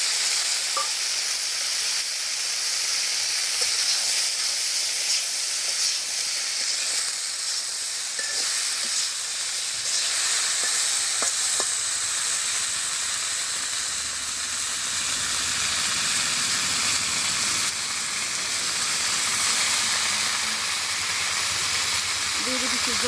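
Fish fries in a pan in a village Bengali kitchen, with a loud, steady hissing sizzle that runs unbroken throughout and faint voices now and then underneath.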